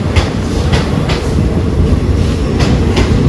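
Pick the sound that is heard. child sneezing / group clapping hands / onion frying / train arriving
train arriving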